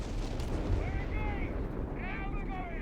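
Artillery battery firing a full volley in Company of Heroes 3, a dense rumbling barrage of booms rolling through the whole span with a voice talking over the gunfire.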